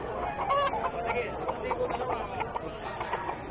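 A rooster on a farm in the Philippines gives clucks and short calls, heard under steady conversation and background noise.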